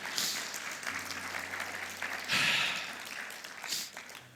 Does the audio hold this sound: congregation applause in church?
yes